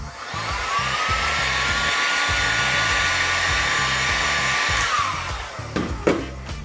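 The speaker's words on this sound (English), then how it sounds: "So a little bit of heat from the heat gun." A heat gun blows hot air onto a cracked Motorola Moto G 4G phone screen, giving a steady, close whirring hiss that runs continuously before a few brief clicks and handling knocks near the end.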